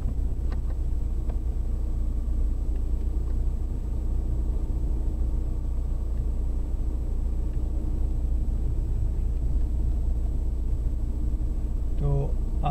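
A car drives along a road toward the sea, its steady low engine rumble and road noise running continuously, with some wind buffeting the microphone throughout.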